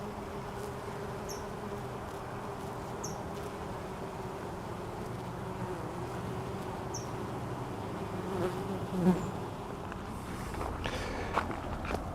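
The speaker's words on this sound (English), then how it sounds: "The bees have been just loving up this plant." Steady low buzzing of bees around a garden plant close by, droning continuously outdoors with a few faint rustles and light knocks.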